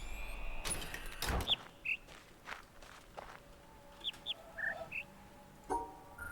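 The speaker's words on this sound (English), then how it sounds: "High and low pitch from the bird." Game birds sing in The Witness: several brief, moderately faint chirps at alternating high and lower pitches, scattered over steady footsteps and a quiet ambient background.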